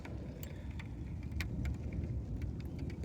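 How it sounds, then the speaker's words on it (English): Steady rain falling outdoors at a gold-prospecting site, a dense continuous hiss with scattered sharper drops and patters, moderately loud and unbroken with no voices. "we got the rain coming up over here now. Starting to really come down."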